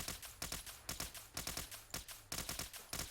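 Rapid bursts of Institute covert ballistic pistol gunfire in Fallout 4, loud and close, with several quick shots per burst and short pauses between strings.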